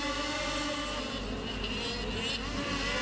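Pro snowmobiles at a snocross national at Mt. Zion roar off the start of a heat, a dense, steady engine drone that stays loud and unbroken throughout.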